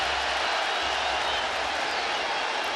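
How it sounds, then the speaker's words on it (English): Baseball crowd at Fenway Park roaring and whooping during a Yankees–Red Sox Friday night game as both benches clear, a dense, steady wall of cheering and scattered clapping throughout. "The crowd whooping it up."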